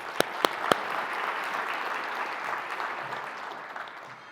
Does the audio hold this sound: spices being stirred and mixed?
no